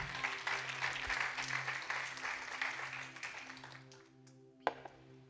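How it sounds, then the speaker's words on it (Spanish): A church congregation claps together, a soft, even patter of many hands that fades out over a few seconds, followed by a single sharp tap. "Si va a aplaudir, apláudale al Señor de verdad."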